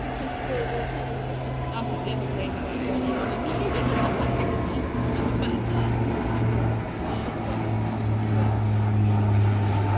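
RAAF Spartan military transport aircraft flying at an airshow, a steady droning engine and propeller sound throughout, moderately loud and distant, with someone talking over it.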